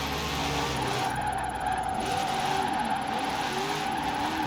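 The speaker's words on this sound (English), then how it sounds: "God, I miss drifting on this game." A car drifting in Forza Horizon, its engine droning steadily with a sliding tire squeal running throughout, loud and continuous with no speech.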